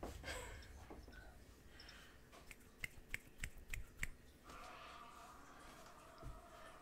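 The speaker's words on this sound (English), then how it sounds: "One handed clap." A few sharp finger snaps land close together near the middle, crisp and fairly near, against a quiet background with faint low rumble and a brief soft voice.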